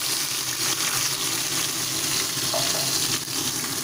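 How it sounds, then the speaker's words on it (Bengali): Ground ginger, garlic, onion and chili paste frying in hot oil over a low gas flame, giving a steady, dense sizzle that runs throughout, close and fairly loud, with no voices. "তেল গরম হয়ে গেছে এবার গ্যাসটাকে সিম করে আমি এর মধ্যে বাটাগুলোকে অ্যাড করে দিলাম"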